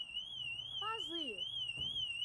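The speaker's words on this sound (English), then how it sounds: "did you just set the car alarm off?" A car alarm sounds a continuous wavering electronic tone at steady volume, and a voice speaks briefly over it.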